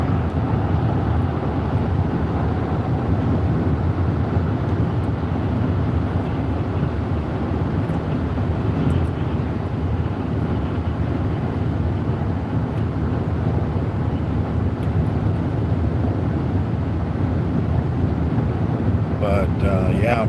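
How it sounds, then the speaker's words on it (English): Strong wind in the California desert roars across the microphone in a steady, heavy low rumble that runs the whole time, with gust noise dominating and no clear voices breaking through. "wind is very strong today"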